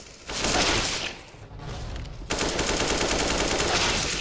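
Counter-Strike: Global Offensive gunfire plays as dense, sustained automatic bursts and rapid shots, loud and continuous, with a brief lull before firing picks up again.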